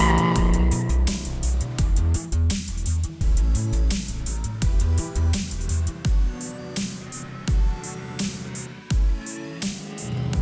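A 1956 Chevrolet Bel Air with an LS3 engine on the move, heard as a loud, rough rumble broken by repeated sharp bumps and clunks, with the engine note surging and dropping throughout, close up, no talking.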